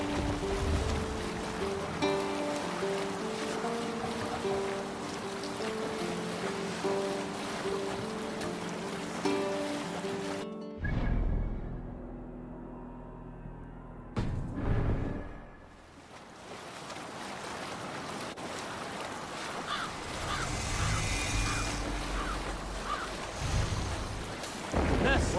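A ship under sail on open ocean in Assassin's Creed Valhalla, with steady wind and water rushing against the hull, a brief quiet dip partway through, then the surging sea and creaking vessel returning.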